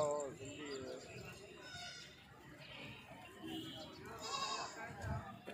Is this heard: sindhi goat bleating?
yes